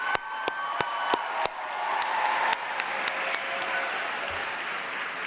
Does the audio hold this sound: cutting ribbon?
no